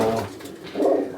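Pigeons coo in a pigeon loft in Murshidabad, a close, soft, throaty call heard twice with a short pause between, alone with no talk.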